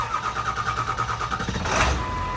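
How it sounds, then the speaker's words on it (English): A Ford Powerstroke 7.3L diesel engine, previously cranking without starting due to a P1662 fault, cranks with a steady rhythmic starter chug for about a second and a half, then catches and fires up loudly, settling into a running idle. "let me crank the engine"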